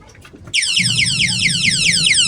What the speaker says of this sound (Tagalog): konting uga ko lang sa manubela, nag-ingay na agad yung alarm.